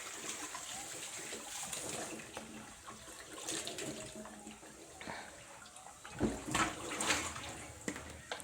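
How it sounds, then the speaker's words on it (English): Sardines being washed by hand in a basin of water, with steady splashing and sloshing throughout and a few louder swishes near the end, close and alone. "Wash until you see"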